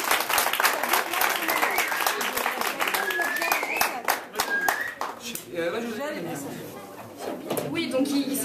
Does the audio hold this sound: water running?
no